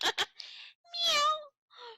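A person imitates a cat, giving a couple of drawn-out meows after short breathy sounds, soft and close.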